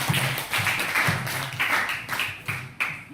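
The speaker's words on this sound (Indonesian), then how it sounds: "Oke, terima kasih, tepuk tangan." A classroom group claps together during a teaching session, making rhythmic bursts of clapping about twice a second over a short stretch, close and moderately loud, with no speech on top.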